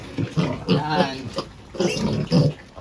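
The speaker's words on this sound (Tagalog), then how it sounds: "With feeding po tayo dito sa ating mga biik na to." Piglets squeal and grunt at feeding time in a small backyard pig pen, short shrill bursts and snorts coming close together, with someone speaking briefly among them.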